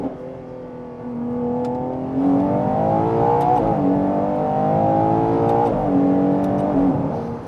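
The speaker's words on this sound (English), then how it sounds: "it like revs out like crazy" A Ferrari Purosangue engine revs up hard under acceleration, its whining tone climbing repeatedly and dropping at a few gear changes, heard steadily from inside the moving car with no talking.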